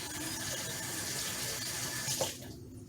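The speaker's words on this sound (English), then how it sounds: "Let me wash off my knife here." A kitchen knife is rinsed under a running tap during onion prep for sweet pickle relish, a loud, steady splash of water that cuts off abruptly near the end.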